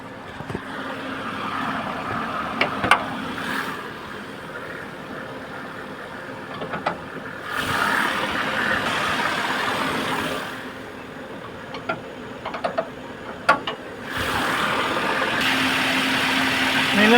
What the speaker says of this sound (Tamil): இப்போ இன்ஜின் ஆன் பண்ணி இன்ஜின் ரூம் ஓப்பன் பண்ணி காட்டுறேன்